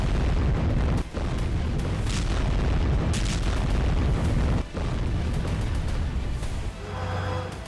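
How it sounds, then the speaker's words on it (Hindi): Heavy, continuous booming blasts from tank shelling, drone and missile strikes during an Israeli ground operation in Gaza, loud and close. Two sharp breaks punctuate the dense rumble before it eases near the end. "इजरायल ने टैंक तोपों के साथ साथ ड्रोन और मिसाइलों से भी प्रहार शुरू कर दिए हैं"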